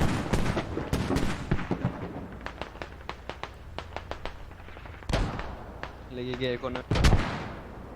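Mortar and artillery fire in a multiplayer war video game, a rapid string of sharp blasts followed by heavier booming impacts, some near and loud, others fainter, with a voice talking over parts of it.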